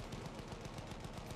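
Rapid gunfire crackles through a World War I battle in Battlefield 1, dense overlapping shots and bursts at a steady loud level with no pauses across the whole moment.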